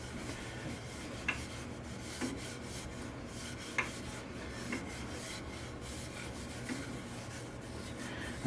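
Hand-rubbing abrasive grit into a textured willow bowl makes a continuous dry scraping rasp, close and steady, punctuated by a few light knocks and taps with no talking.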